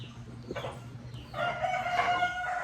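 Backyard chickens, a few soft clucks at first, then a rooster crows loudly and close by, the call held for over a second.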